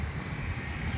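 An airliner powers up for takeoff on runway 10 right at Dublin Airport, a loud steady low engine roar filling the short stretch without speech.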